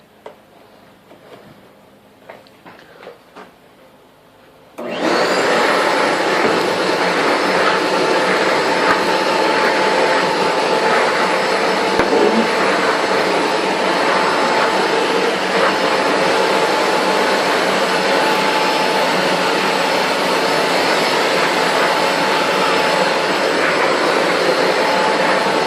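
Shop vac starting up after a few quiet seconds of faint handling noise, then a loud, steady, high-pitched whine and rushing airflow that holds constant close by for about twenty seconds.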